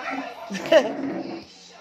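Puppy whimpering, a short high whine heard close by amid people talking.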